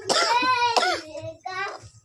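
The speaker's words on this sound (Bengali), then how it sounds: "দেখো কাশি হচ্ছে এখনই" A person with a cold coughs twice in quick succession, close and loud, followed by a softer third cough with a slight voiced, childlike quality.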